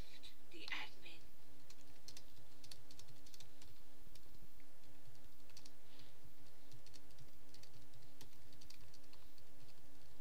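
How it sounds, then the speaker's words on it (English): Typing on a laptop keyboard, quiet scattered key taps at an irregular pace, with soft low voices murmuring in the background. "It's hard typing on a bloody laptop."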